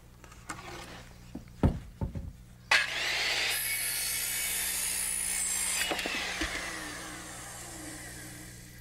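A power saw set at an 18.5-degree angle cuts a piece of wood, starting with a few knocks and clicks before a loud, steady whining cut of about three seconds, then winding down.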